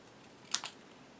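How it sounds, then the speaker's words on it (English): Scissors snipping cardstock into a banner shape, two quick, crisp cuts close by in an otherwise quiet room. "then I'm going to take my scissors and cut this into a little bit of a banner shape."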